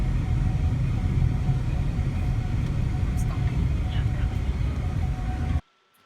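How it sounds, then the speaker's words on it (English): Steady in-car road noise as a car drives along a road, a constant low rumble and hiss that stays level for several seconds before cutting off abruptly near the end. "I have a clip of us driving along the road"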